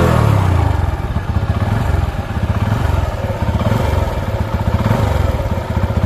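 A TVS Apache 160 2V motorcycle engine runs close up, its steady rhythmic thrum loud and continuous for several seconds, with a loose number plate rattling and clattering along with the vibration.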